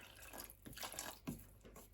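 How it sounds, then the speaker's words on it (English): Water pours and splashes softly in short, uneven bursts into oiled roti dough in a bowl, faint and close, with no one speaking. "Then I'm going to add some water."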